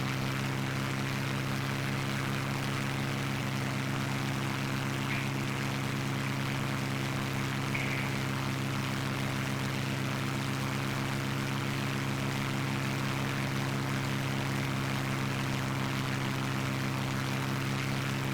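A Supermarine Spitfire Mk IX engine runs at steady power during a supercharger test in Digital Combat Simulator, giving a constant, even propeller drone with strong humming tones and no variation across the long stretch.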